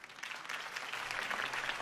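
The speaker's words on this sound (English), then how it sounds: "could have heard that applause" A crowd at a political campaign rally in Batman: The Telltale Series claps and cheers in a dense, steady burst of applause that swells slightly and holds for a couple of seconds.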